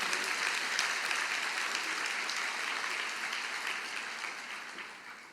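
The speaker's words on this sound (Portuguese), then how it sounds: "glória a Deus, aplaude o Senhor." A church congregation applauds during a sermon, a broad sustained roar of many hands clapping that stays full and even before slowly fading near the end.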